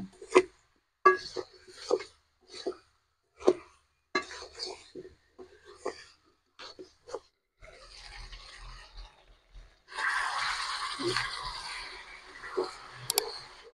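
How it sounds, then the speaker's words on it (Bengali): Chicken kosha with extra chilli sizzles in a pan over low heat while it is stirred. Steady, close frying hiss comes in the last few seconds, after a stretch of talking with light kitchen clinks. "আস্তে আস্তে জাল দিয়ে ভালো করে কষে নেব।"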